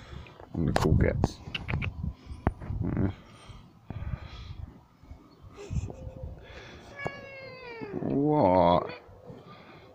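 A cat meows several times, with short rising and falling cries, close by, mixed with a person's brief speech and handling noises.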